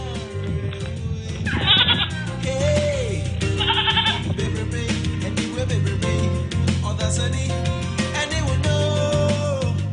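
A male goat bleats loudly and close by, with several drawn-out calls repeating over a dense, steady background.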